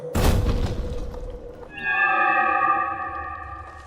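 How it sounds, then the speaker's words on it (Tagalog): A volcanic eruption sound effect: a deep, loud boom bursts out at the start and rumbles away, then a swelling, echoing tonal roar with a chorus-like shimmer rises and slowly fades, with no voices. "Pumutok na naman yung bulkan."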